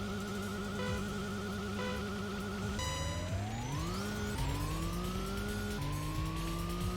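An engine fitted with new parts on a street car in the racing game Racing Lagoon, steady and droning, with its pitch sweeping upward in a series of rising steps as it revs through gears, heard alone without talk.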